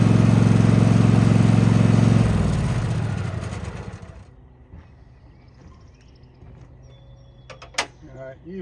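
Riding lawn mower engine running loudly, then winding down and dying as it sputters to a stop, followed by quiet with faint clicks and handling noises.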